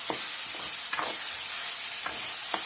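Onion and green chillies sizzle steadily in a pan for a potato curry, a continuous hiss with a few soft scrapes of stirring, close and alone.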